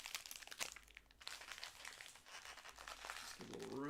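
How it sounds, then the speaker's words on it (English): Card packs from a 2020 Bowman Draft Super Jumbo box being cut open with scissors, giving close, busy crinkling and snipping of foil wrappers in quick irregular bursts. "Let me use the scissors and cut some of these open."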